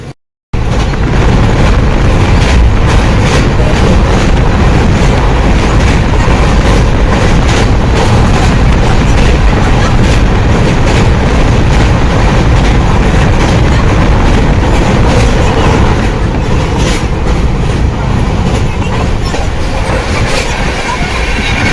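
A train on the Howrah to Jammu Kashmir route runs past Danapur station, a loud, steady rumble of wheels on rails with rhythmic clickety-clack close by for the whole stretch.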